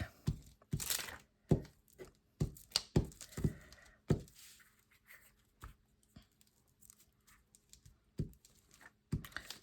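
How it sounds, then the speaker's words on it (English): A glue stick thumps repeatedly on paper while envelopes are lined with junk mail, sharp close dull taps in an irregular rhythm with crinkly rubbing between them and no talking. "some commenters had complained about that sound of that thumping on the glue stick"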